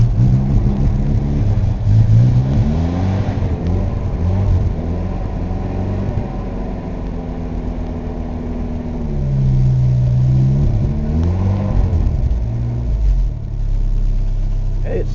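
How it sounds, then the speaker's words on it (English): Carbureted 1983 Chevrolet S10 pickup engine on a cold start, idling with a rough mid-pitched rumble that rises and falls in revs several times, loud and close throughout. "So it's time to attempt to start the 83 S10"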